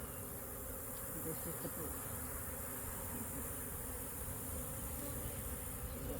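Honey bees swarm and buzz steadily and close during a hive inspection over open brood frames, a dense continuous drone filling the whole stretch, with a person speaking briefly over it.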